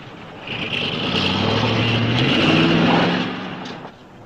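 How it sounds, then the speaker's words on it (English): A car approaches along a desert detour road, its engine noise swelling over about a second and holding steady before easing off near the end, heard alone without talk. "I think I hear a car coming."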